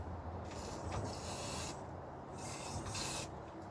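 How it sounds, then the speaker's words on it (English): Glue accelerator sprayed onto a gold top Les Paul guitar body during a build, giving a few soft hissing bursts close by with no talk. "I'm just going to spray a bit of the accelerator here"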